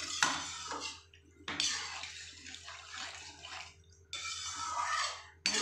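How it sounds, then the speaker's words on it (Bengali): Water being poured into a pan of soybean curry, heard as three separate bursts of splashing, pouring noise, loud and close, with short quiet gaps between them and no talking. "আমি জলটা দিয়ে দেবো।"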